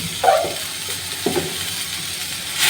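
Dal cooking with green chillies and spice powder in a pan sizzles softly while a spoon stirs it in two short scraping strokes, the second about a second after the first, ending with a brief louder hiss.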